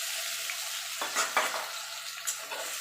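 Sliced ridge gourd sizzling in a pan with spice paste, a continuous frying hiss with a few sharp stirring clatters from a spatula, close and alone without talk.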